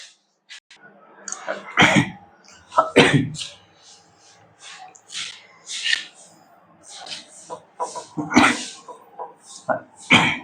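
Several harsh, close coughs break out in clusters between stretches of a person speaking, with a few sharp throat-clearing bursts.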